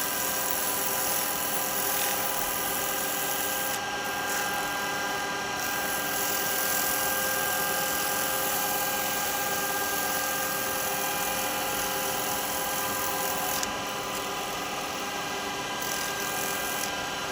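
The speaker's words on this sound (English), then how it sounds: "I'm just going to use a little bit of sandpaper just on this edge." A wood lathe spins with a steady, whining drone while sandpaper is held against the edge of a miniature cowboy hat turned from seasoned wood. The tone is constant and close, with slight rasping shifts in texture.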